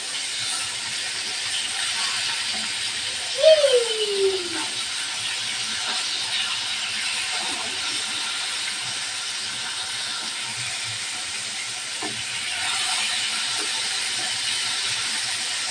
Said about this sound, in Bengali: মাছটা একবার ভাজা হয়ে গেছে উল্টিয়ে নেব